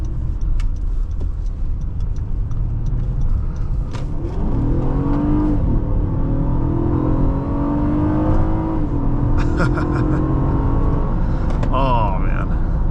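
A 2016 Honda Accord EX-L V6 accelerates hard from inside the cabin, its engine note rising and dropping through several quick gear shifts, loud and continuous with road rumble underneath.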